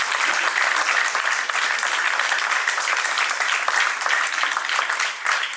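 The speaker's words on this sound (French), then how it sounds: "il faut encore applaudir" Sustained audience applause at a literary festival event at La Goutte d'Or, a bright and dense wash of many hands clapping, loud and steady for several seconds.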